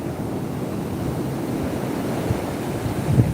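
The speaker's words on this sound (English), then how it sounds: "These waves aren't that big. Well, they're getting bigger, but they're barreling a little." Ocean surf breaking and rolling onto a beach in a steady, continuous wash of noise, with wind buffeting the microphone and a slightly louder swell near the end; no one speaks.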